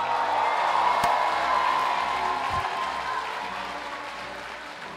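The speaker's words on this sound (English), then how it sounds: "can I hear you give a round, resounding applause?" Parents and guests at a medical college induction ceremony break into broad applause with a few cheers mixed in, a steady roar of clapping that slowly tapers off.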